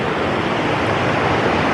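Rushing stream water at a hiking-trail crossing on Mount Moriah in New Hampshire's White Mountains in early spring: a loud, dense, continuous broadband roar, close and unbroken, with no voices.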